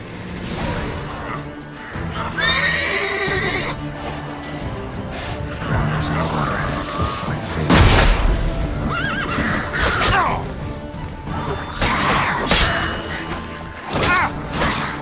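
Roach the horse from The Witcher 3 whinnies several times in close, loud bursts over rhythmic galloping hoofbeats, with occasional thuds and someone speaking briefly in between.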